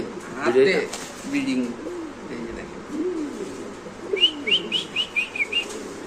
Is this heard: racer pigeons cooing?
yes